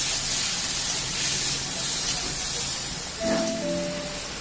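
Chopped tomatoes hitting a hot pan for matar paneer, a loud continuous steamy hiss with a brief metallic scrape near the end.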